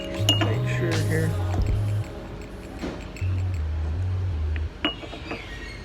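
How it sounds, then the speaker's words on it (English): A spoon stirs egg coffee in a glass at a Ho Chi Minh City café, making a few scattered light clinks against the glass over a steady low background hum. "But I think it needs to be stirred up just a little bit more."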